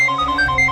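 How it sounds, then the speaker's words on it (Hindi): A phone ringtone chimes in a repeating melodic pattern of short electronic tones, steady and fairly clear at night indoors, with no one speaking over it. "अब किसका फोन है?"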